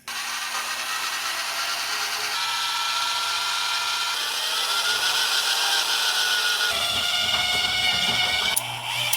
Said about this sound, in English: now we have to drill out the body of this thing